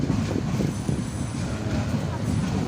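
A passenger train carries riders about 28 km homeward. A steady low rumble with rhythmic clatter of wheels on rails is heard from inside the carriage throughout.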